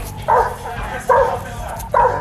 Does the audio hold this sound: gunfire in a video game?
no